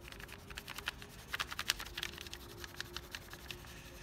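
Dark brown crayon being worked onto a paper bag, a quiet, close patter of quick scratchy strokes in uneven bursts.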